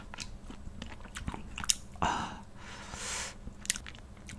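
Chinese glass noodles in a spicy chicken stew are eaten close to the microphone, with wet chewing, slurps and a few sharp bites over a few seconds. No one talks.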